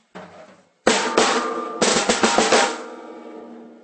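A Pearl Chad Smith signature snare drum struck close up, a few sharp hits with ringing body, the strikes clustered then fading out alone.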